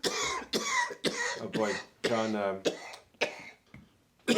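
A man coughs repeatedly in a clinical care setting, a series of close, harsh bursts with throat clearing, interspersed with brief spoken words.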